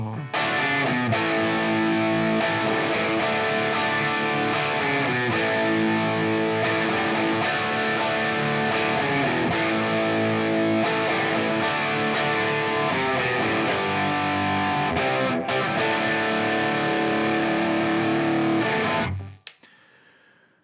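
The chorus of a song is played on a distorted electric guitar. Steady, rhythmic power-chord strumming with short accented stabs runs for about nineteen seconds, then cuts off and rings out, with no voice.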